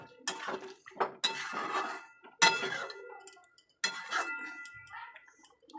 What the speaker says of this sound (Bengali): মাংসটার মধ্যে মশলাটা মিক্স করে ঢাকা দিয়ে দিলাম কিছুক্ষণ।